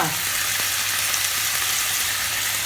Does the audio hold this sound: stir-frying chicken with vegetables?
yes